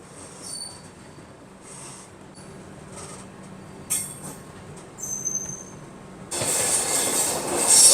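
Express train pulling out of Gandhidham Junction railway station, a low rumbling roll with faint wheel squeals and clicks that builds to a louder, harsher roar near the end, heard from on board without talk.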